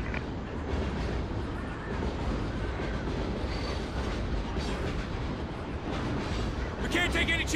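A moving train in the Call of Duty Ghosts campaign gives a heavy, continuous rumble with rolling clatter, and voices talk over it.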